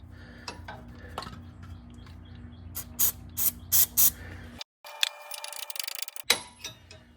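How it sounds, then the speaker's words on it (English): Several short hissing bursts from an aerosol can spraying silicone lubricant onto an old, crud-covered sway bar link bolt, followed by metallic clinks and handling noises nearby. "Spray a little silicone on there just to help this thing out a little."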